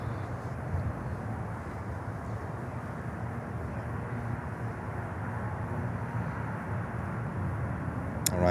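An Eastern Air Express cargo airplane at Miami Airport gives a steady, distant engine roar with a broad rumble that holds evenly throughout, rising slightly toward the end.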